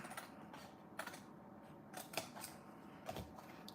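Scissors snip away the corners and small tabs of a paper cow-themed Halloween treat box, producing a few quiet, separate crisp cuts against near silence.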